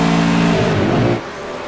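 Racing cars at Hockenheimring, a V8 supercar and a little 2 litre car, roaring past close and loud with a steady engine drone that drops off sharply near the end.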